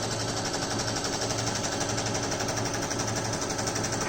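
A sewing machine back stitching a fabric face mask, a rapid, even mechanical chatter of needle strokes, close and steady, with no voice over it.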